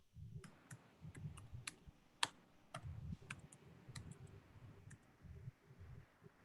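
Typing a command such as ipconfig /renew on a computer keyboard, a quiet irregular run of key clicks with a few sharper taps over low background hum.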